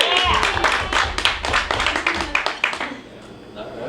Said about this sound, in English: Got that applause machine in there.